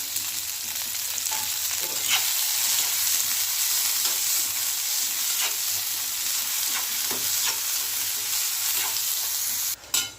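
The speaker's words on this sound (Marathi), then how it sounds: "थोडेसे मिरच्या भाजले की त्याच्यामध्येच ह्या बिया टाकून घेऊया आणि त्यासोबत हे बिया पण भाजून घेऊया" Steady sizzling and frying crackle as chilies and okra seeds roast in a pan, with occasional scraping stirs, continuous and close throughout, no voices.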